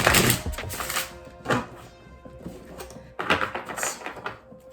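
Quick bursts of riffling card shuffles, two or three separate flurries of crisp fluttering clicks, close up with no talking.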